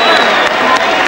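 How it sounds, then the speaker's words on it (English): A large arena crowd roars and applauds for two heavyweight boxers after a bout, a brief, loud, dense wash of clapping and cheering with no gaps. "a round of applause for two warriors in the heavyweight division"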